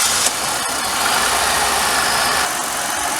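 A GM 3800 Series 2 car engine runs at a steady idle close by, a continuous loud hum with a faint mechanical click partway through and no talk.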